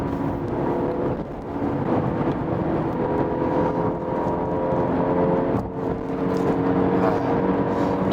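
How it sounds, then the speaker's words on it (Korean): A sixth-generation Mercedes-Benz C-Class pulls hard through a high-speed run, giving a sustained, loud cabin roar of engine drone, road rumble and wind that holds steady with slight swells, and no voices. "잠깐 고속주행 해볼까요? 속도를 쭉 끌어올리면서"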